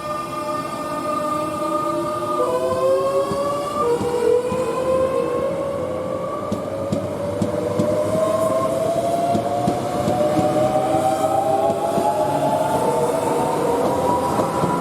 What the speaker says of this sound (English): this is what the Alstom motor on a 365 sounds like